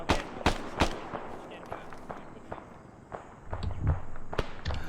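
Gunfire in the video game S.T.A.L.K.E.R. Anomaly, sharp broadband cracks scattered irregularly across the span, some louder and nearer, others fainter, over a rustling background with a low rumble building near the end.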